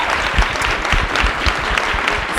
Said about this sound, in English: can we give them a round of applause for even doing that?